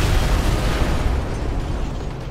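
An airstrike explosion in the tactical shooter Ghost Recon Advanced Warfighter 2, a sustained loud rumbling blast that roars steadily and fades only slightly, heard alone without voices.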